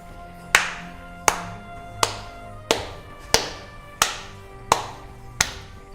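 Eight slow, evenly spaced hand claps from one person, crisp and close, with a faint hum underneath.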